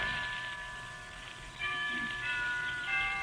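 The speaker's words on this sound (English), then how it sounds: "Why don't we both just sit here and listen to the chimes for a while?" Soft chimes ring with sustained metallic tones, several overlapping notes sounding gently and steadily over a faint background hiss.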